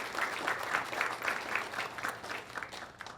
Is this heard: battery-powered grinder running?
no